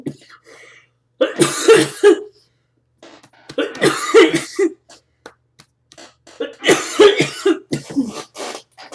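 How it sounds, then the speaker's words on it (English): Three bursts of harsh, hacking coughing from a nearby person, each a cluster of rough coughs separated by short silences. "I'm getting over this cough from whooping cough"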